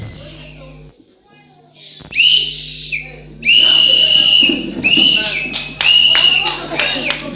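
Shrill whistles blown by a church congregation at a convention service burst out in loud repeated blasts over children's voices, clapping and crowd noise, with a speaking voice at the start.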